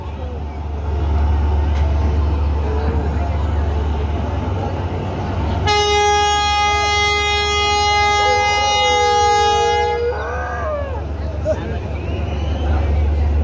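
A passenger launch at Barishal, bound for Dhaka, sounds a long, loud horn blast of about four seconds over a heavy rumble and crowd voices. A brief wavering, howl-like cry that could be a dog follows as the horn ends.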